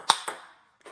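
Flat backhand table tennis hit with no spin: a sharp, close ping of ball on paddle, then a second fainter bounce a moment later.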